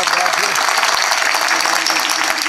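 Loud, dense applause from a large kirtan audience, continuous and even throughout, with some voice-like sound mixed into the wash of clapping.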